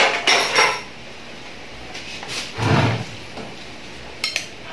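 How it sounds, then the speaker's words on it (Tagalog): A utensil scrapes and clinks against a cooking pot while stirring a Filipino dish of guso seaweed and tawilis fish, with a few short metallic knocks and scrapes separated by quiet pauses. "Haluin lang natin ng konti."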